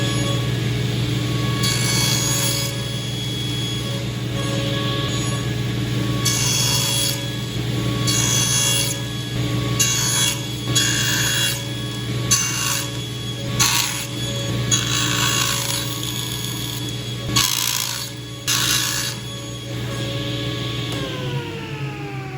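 A saw with a sled slices through wooden dowel pieces: a steady motor hum runs throughout, broken by about a dozen short, louder cutting bursts at irregular intervals, with no talking.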